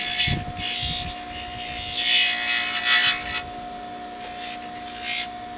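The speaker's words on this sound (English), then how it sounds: "Grind off the end." A power grinder shapes the pointed end of a wooden pottery sponge stick, with bursts of harsh abrasive rasping and whirring broken by short pauses, close and loud over a steady motor hum.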